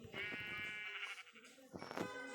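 A goat in a video game gives a long, wavering bleat, then a second shorter bleat, clear and close, with no talking.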